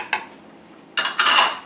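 A utensil scrapes and clatters in a pan of prosciutto smoked paprika bourbon sauce, one short click then a burst of bright metallic scraping, close and without speech.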